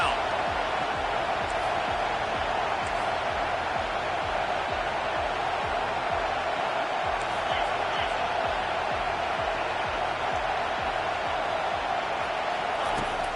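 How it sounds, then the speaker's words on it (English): Football stadium crowd growing loud as the defense faces third down, a dense, sustained roar of many voices at a steady level, with a commentator talking over it. "Decibels rising as the crowd gets behind this defense on 3rd down."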